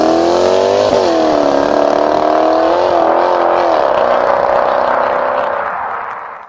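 A 4.2-litre supercharged V8 car engine revs hard and loud, pitch climbing and dipping through several surges before the roar fades at the end, with no talking.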